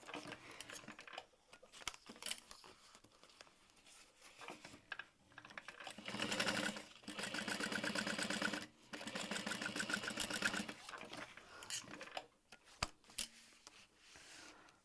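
A sewing machine sews a quilted crossbody bag shut in quiet, close bursts of rapid stitching that stop and start, mixed with fabric handling and small clicks.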